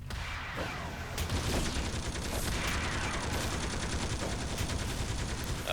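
Enemies in City of Heroes fire guns in a dense, continuous barrage of rapid shots, loud and close, with no pauses across the stretch.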